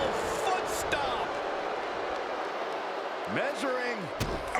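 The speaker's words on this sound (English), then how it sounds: "Oh, and a double foot stomp." A double foot stomp landing in WWE 2K25 on PS5, a heavy thudding impact near the end under steady crowd noise, with a commentator talking over it.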